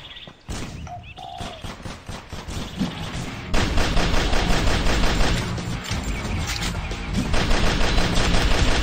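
Pistol firing at zombies in the video game ZIC: Zombies In City, a continuous barrage of close, loud shots layered over dense game noise that grows heavier partway through.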